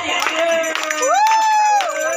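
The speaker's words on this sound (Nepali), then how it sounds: "ताली हो ताली" An audience claps along in rhythm to a devotional song about chanting Hari's name. A sustained melodic sung line dominates, with the claps underneath and a faint crowd murmur.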